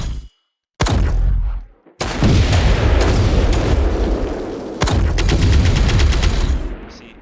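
Gunfire in a Unity multiplayer shooter game, loud dense bursts of rapid shots and booming blasts filling most of the stretch, briefly cut by a sharp silence near the start.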